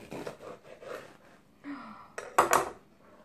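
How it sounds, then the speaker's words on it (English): A knife cuts through a crusty homemade French baguette, giving a few short crackly crunches that end in a louder burst of crust breaking, close up, with faint breathing around it. "But let's cut it. I'm going to cut it in"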